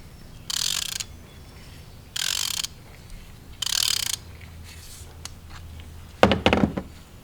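A ratchet wrench loosens a spark plug on a 2.5L turbo Hyundai Santa Fe engine, making three separate bursts of rapid clicking with short pauses between them, then a couple of sharp metallic knocks.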